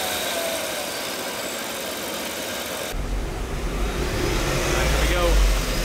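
A supercharged Cadillac Escalade engine runs on a dyno, a steady mechanical hum that deepens into a louder, heavier rumble partway through, with voices faintly present.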